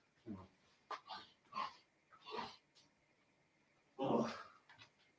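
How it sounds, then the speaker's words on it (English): A person blowing their nose in several short, snorting bursts, the last one longest and loudest, fairly faint and close, with no talk over it. "I've got to blow my nose."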